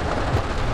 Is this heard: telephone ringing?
no